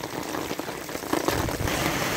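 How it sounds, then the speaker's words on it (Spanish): Light rain drizzling steadily in H. Galeana, Acatlán de Osorio, Puebla, Mexico, a soft continuous hiss of drops pattering on surfaces, with faint background rumble and no talk. "Sigue lloviznando, ya no con la misma intensidad"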